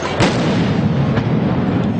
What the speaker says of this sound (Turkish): ard arda patlama sesleri duyuluyor